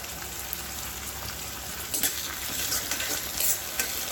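Tomatoes cooking down in a kadai with oil and curry leaves for egg curry, giving a steady close sizzle with occasional stirring scrapes building toward the end, with no talking.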